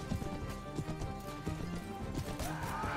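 A horse gallops in a 16th Century video game, its rapid clip-clop hoofbeats running steadily throughout, mixed with in-game music and ambient sound, with no talking.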